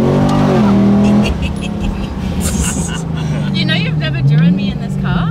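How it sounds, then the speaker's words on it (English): A McLaren 570S sports car engine revs up hard and then idles with a steady harmonic drone, loud and close, while voices talk over it. "Well, Tim's about to drive you in this car."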